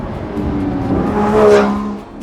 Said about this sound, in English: you put your foot down and you get a little bit of like dicey wheel slip from the back